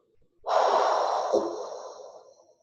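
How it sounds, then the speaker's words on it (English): A single forceful exhale during a core-restore breathing exercise, a close, steady rush of breath lasting about two seconds and trailing off softly. "Exhale. Get all the air out."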